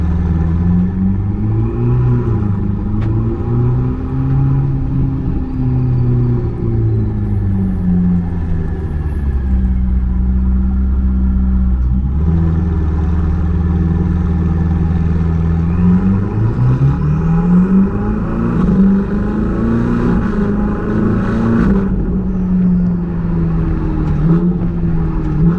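A Ferrari 488 GTB with a dual-clutch gearbox pulls away, its engine note a steady low rumble that climbs, dips and rises again in smooth pitch sweeps, close and continuous with no talk.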